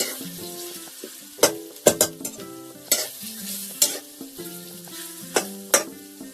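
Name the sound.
soaked chickpeas frying and stirred with onions in pan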